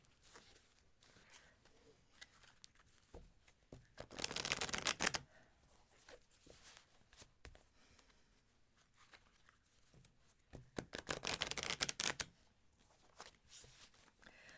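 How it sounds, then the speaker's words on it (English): A tarot deck gets shuffled in two separate bursts of crisp, riffling card noise, close to the listener, with quiet gaps between them. "You shuffle."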